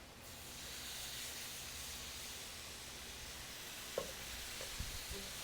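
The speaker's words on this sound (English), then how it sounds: "So at this point now, I'm going to start adding my broth." Turkey neck broth hisses and sizzles steadily as it is poured into a hot gravy pan, a continuous close wash of steam with a few faint clinks near the end and no talking.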